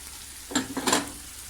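Tomatoes and chicken liver frying on a tawa give a short burst of sizzle and stirring scrapes lasting about half a second, moderately close, with quiet background before and after.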